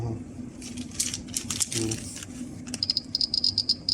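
A Geiger counter with an SBM-20 tube crackles with rapid irregular clicks as a radiation source is brought near, the clicking growing denser toward the end over a low background hum.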